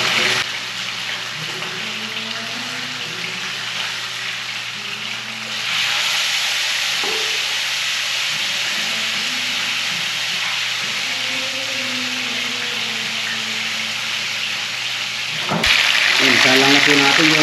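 Fried paksiw fish pops and sizzles in hot oil, a constant crackling hiss under steady talking, with sharper bursts of spattering partway through and again near the end.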